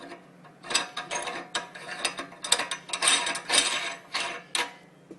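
A locking ring is twisted onto a stainless steel meat grinder, giving a series of close, scraping metal clicks and ratcheting rasps that come in irregular bursts.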